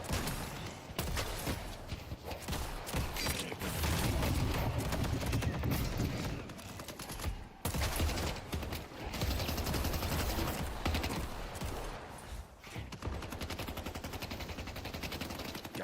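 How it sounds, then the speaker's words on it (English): Rapid bursts of video game gunfire, automatic and single shots crackling loud and dense, overlapping with other game effects almost continuously, with a brief drop in the middle. "God, those gun effects sound so sick"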